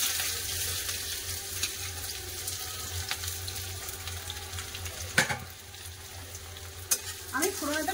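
Chopped onions hit hot mustard oil seasoned with cardamom, cinnamon and a black cardamom pod, giving a steady close sizzle with a couple of sharp utensil clinks and some stirring near the end.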